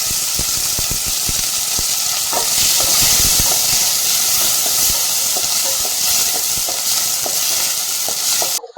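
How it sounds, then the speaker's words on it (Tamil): Steady crackling sizzle of onions sautéing in hot oil, with frequent clicks and scrapes of stirring throughout, close and fairly loud. "வெங்காயம் நல்லா வதங்கி வரணும்"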